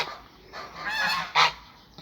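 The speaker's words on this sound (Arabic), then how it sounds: "عندي الوز متجمع" A gathered flock of farm geese honks up close: several nasal calls rise and fall over two seconds, ending in one loud, sharp honk, with no talking.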